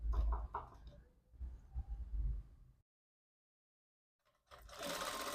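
A sewing machine stitches a quarter-inch seam on a back-open princess-style blouse, running in two quick bursts before stopping in silence, then whirring up again near the end.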